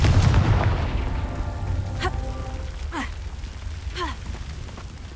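A Confringo fire spell blast in the Hogwarts Legacy video game opens with a loud, booming burst that fades over about a second, followed by a few quick, softer whooshing sweeps.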